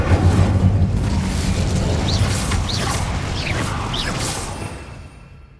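An Incendio fire spell cast in Hogwarts Legacy makes a loud, rumbling roar of flame with a few whooshing flares riding on top. It holds steadily, then fades away at the end, with no talking over it.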